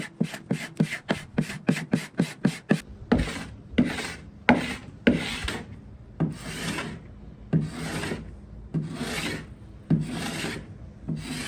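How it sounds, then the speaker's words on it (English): Carbide scraper scraping stripped finish off the wooden top of an Asian campaign dresser: a fast run of short rasping strokes, then slower, longer loud scrapes, close and steady with no talk. "So I'm really having to use my carbide scraper because I actually used the Advanced Strip Pro on the top and it didn't come off as well"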